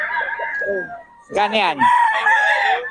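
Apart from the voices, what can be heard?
pumpkin sweater gamecock rooster crowing at market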